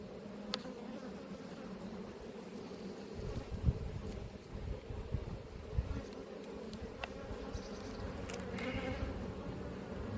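Honey bees buzz around an open hive in an apiary, a steady droning hum that stays close and loud throughout, with occasional bumps and wind rustle mixed in.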